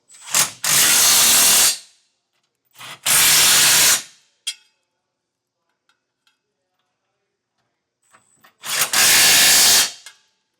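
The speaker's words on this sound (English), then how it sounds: "tighten down our hardware with a 19mm socket" An impact tool fires three loud, close bursts of about a second each, separated by quiet gaps with faint clicks, as a 19mm socket tightens trailer hitch bolts on a 2025 Nissan.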